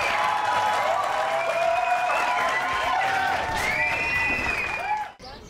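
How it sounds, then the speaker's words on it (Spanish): Studio audience on a Spanish-language talk show applauding and cheering, a continuous wash of clapping with voices and whistles over it, fading out at the end. "pido fuerte el aplauso para mis doctores"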